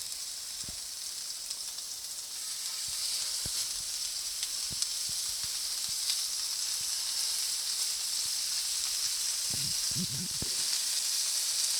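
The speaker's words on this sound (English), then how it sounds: "As the oil starts to flame, you put the burgers in." Burgers sizzle in very hot oil in a pan, a steady, bright hiss of frying throughout, with a few soft knocks and bumps of handling near the end and no talking.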